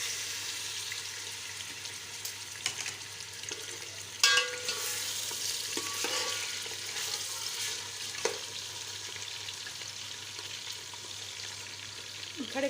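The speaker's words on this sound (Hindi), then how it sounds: "अब मैं इसमें गोश्त ऐड कर रही हूँ।" Meat is added to hot oil left from browned onions for a korma-style aloo gosht, sizzling and frying steadily while being stirred, with a few louder scraping clatters along the way.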